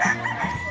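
Rooster crowing among the chicken cages at a pet market, a short, fairly near call with a harmonic, drawn-out shape over busy market background.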